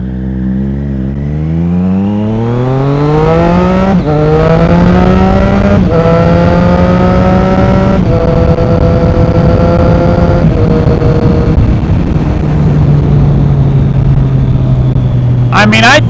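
Motorcycle with a drive cam installed pulls away and accelerates, its loud, close engine climbing through the revs several times in succession as gears change, then settling into a steady cruising drone, with a faint voice partly under the noise.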